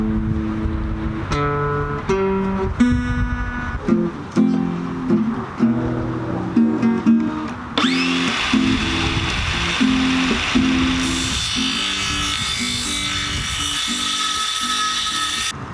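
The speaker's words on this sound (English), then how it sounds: "That was ballad with guitar and circular saw in G major" Acoustic guitar plays a plucked ballad in G major, then a circular saw spins up and rips through wooden garden-box panels, a loud sustained whine that overlays the guitar to the end.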